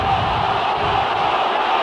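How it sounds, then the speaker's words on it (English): A rugby league crowd at a Leeds versus Swinton match roars angrily after a high tackle, a dense loud mass of shouting voices holding steady throughout. "The crowd incensed."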